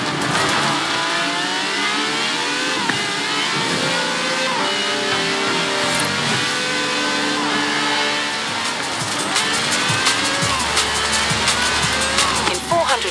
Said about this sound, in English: This has a V12 with over 700